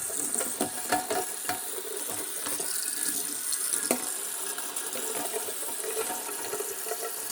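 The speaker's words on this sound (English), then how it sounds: "Then go through and wash all the dust out." Water from a tap or hose sprays and splashes steadily over an aircon filter, rinsing out dust in a continuous hiss with small irregular spatters, heard close up with no talking.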